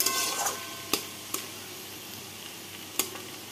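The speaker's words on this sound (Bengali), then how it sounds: "নামানোর একটু আগে আলুটা দিয়ে একটু নাড়াচাড়া করে নিলাম।" Greens and potato stir-fried in a pan give a soft continuous sizzle, broken by a few sharp spatula knocks and scrapes against the pan.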